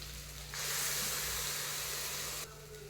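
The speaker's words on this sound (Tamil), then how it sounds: "நம்ம அரைச்ச இந்த பேஸ்ட்டை போட்டு நல்லா வதக்கிக்கலாம்" A ground masala paste sizzles in a hot pan as it is sautéed for a cauliflower gravy; a soft, steady hiss rises suddenly and runs for about two seconds before easing off, faint and without voices.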